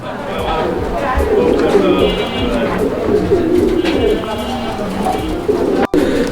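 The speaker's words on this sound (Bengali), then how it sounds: "কবুতর দেখেন" Pigeons offered for sale coo in low, throaty rolling calls close by, mixed with the murmur and chatter of people talking nearby.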